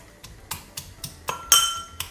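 Garlic and cumin are pounded together for a Sfax-style fish couscous broth, a run of sharp clinking knocks at a steady beat of about four per second, close and without talk.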